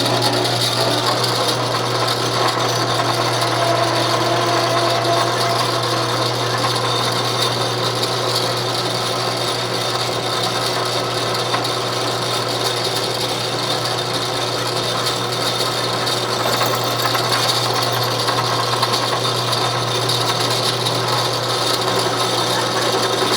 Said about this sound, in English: So I'm gonna go ahead and drill the rest of these 3 that I have left to do